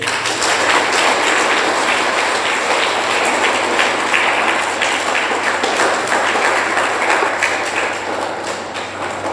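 Loud, sustained applause from a large crowd of hostel students at a school seminar, dense and steady clapping that stays strong throughout before easing slightly near the end.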